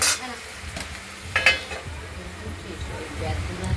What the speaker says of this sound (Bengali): ঢাকনাটি খুলে আমরা ঝিঙেগুলো ছেড়ে দিলাম, আবার ঢেকে দেবো, জল বেরোবে